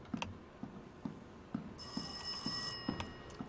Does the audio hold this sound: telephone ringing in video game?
yes